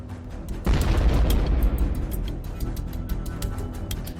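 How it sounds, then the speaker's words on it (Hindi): Small grenade dropped by a drone exploding on a T-72 tank, one sudden muffled boom followed by a lingering rumbling roar and crackle as it fades. "छोटा ग्रेनेड छोटा धमाका करता है"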